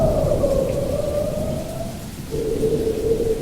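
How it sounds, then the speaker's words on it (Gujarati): A wind-driven rain shower sweeps across an open spot, a steady dense hiss of rain and gusting wind that holds fairly loud and constant, with a faint tonal whine running underneath. "તો જુઓ તમે, વાછટ કેવી ઉડી રહી છે વરસાદની"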